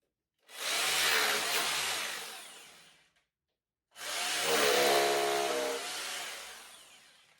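Two bursts of a power drill boring wall-plug holes during bathroom boxing and skirting renovation, each whirring a couple of seconds with a brief pause between, close and loud, no talking.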